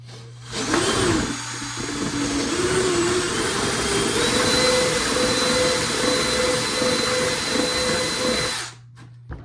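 A rotary tool spins steadily for about eight seconds as it enlarges a hole in a proton pack, giving a loud, continuous high-pitched whine that shifts slightly in pitch as it rubs the edges, then cuts off.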